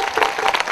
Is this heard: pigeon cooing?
no